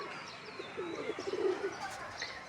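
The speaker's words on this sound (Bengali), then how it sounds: "এই যে ঘুঘু পাখিটা আমার ওখানে বাসা করতেছে এই জায়গাতে" A dove cooing near its nest, soft low coos repeated in a short run in the middle, fairly faint, with a few small chirps and quiet background.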